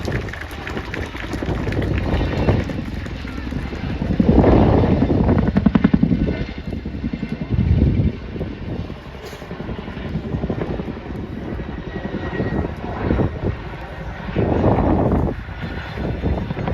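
A heavy twin-rotor Chinook helicopter roars continuously nearby during an air display at Duxford, its engine and rotor thrum swelling louder in waves as it climbs.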